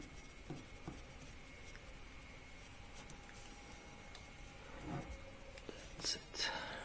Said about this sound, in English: Then I use a flat screwdriver with the plastic tape on it so as not to harm